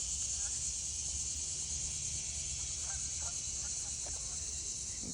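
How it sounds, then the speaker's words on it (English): Geese honking by a lake in a state park, with several faint, scattered calls over a steady hiss of outdoor background, distant and soft. "I hear the ducks and the geese, lots of geese"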